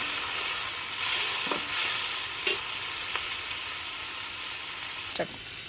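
Raw prawns fry with onion and chili in a hot pan, giving a continuous dense sizzle with a few sharp clinks and scrapes from stirring. Nobody talks.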